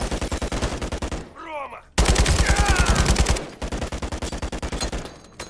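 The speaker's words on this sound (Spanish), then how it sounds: "Cuidado con los disparos." Rapid automatic gunfire in the Modern Warfare 3 shooter game, loud, close bursts of evenly spaced shots broken by short gaps, one with a brief voice between bursts.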